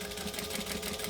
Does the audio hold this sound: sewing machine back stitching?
yes